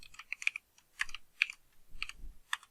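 Typing on a computer keyboard, quick bursts of crisp key clicks in several short clusters, close and clear in a quiet room with no talking.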